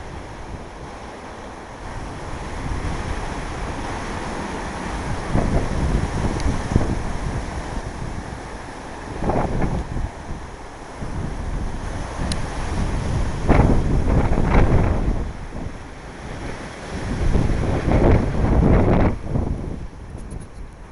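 Strong cyclone wind roars and buffets the microphone continuously, with louder gusts surging every few seconds over a rushing, surf-like background.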